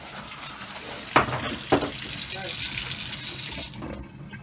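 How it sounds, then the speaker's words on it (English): An RV toilet flushes with a steady close rush of running water and a couple of sharp clunks, then the flow tapers off near the end. "There's the toilet. Flushes real good."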